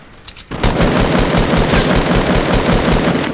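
An assault rifle in Fortnite lets loose a sustained burst of rapid automatic fire, loud and close, after a few quieter shots at the start.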